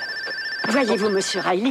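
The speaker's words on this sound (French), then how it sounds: "C'est un téléphone." An old-fashioned telephone bell rings steadily in an indoor scene while someone speaks French over it, the tone staying level throughout.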